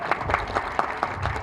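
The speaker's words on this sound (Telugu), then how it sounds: "ఒకసారి గట్టి కొట్టేయండి చప్పట్లు." An audience at a Telugu film music launch claps in a brief burst of scattered, moderately loud applause lasting about a second and a half.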